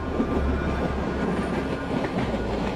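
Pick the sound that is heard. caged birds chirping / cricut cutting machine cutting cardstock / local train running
local train running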